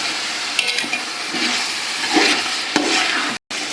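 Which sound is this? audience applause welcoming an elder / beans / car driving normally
beans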